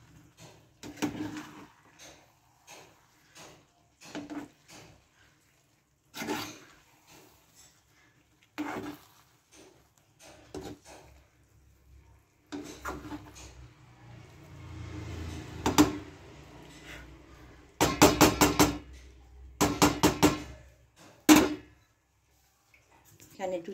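Eggs are stirred in a pan while cooking egg pulao, with a spoon scraping and clacking against the pan in irregular close knocks and short scraping bursts that grow busier toward the end.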